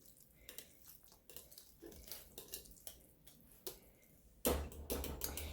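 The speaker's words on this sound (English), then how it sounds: "Yeah, I'm going to sift." Pumpkin puree being sifted through a sieve, soft irregular scraping and metallic clinks from a utensil working against the mesh, close and quiet, with a louder rattling clatter near the end.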